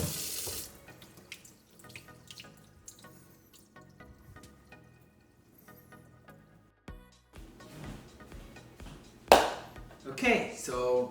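Sushi rice is washed in a basket under a running tap, with water splashing and dripping and a few clinks of the basket; louder gushing bursts come near the end.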